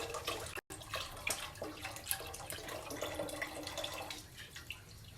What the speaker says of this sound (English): And I will be pouring the rest of my broth.